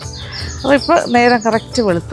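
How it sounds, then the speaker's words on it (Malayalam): Birds chirp at daybreak around a temple of Sri Dharma Sastha at Aryankavu, with thin, high calls sounding faintly behind someone talking close by. "കിളികളുടെയൊക്കെ ശബ്ദം കേട്ടു തുടങ്ങി."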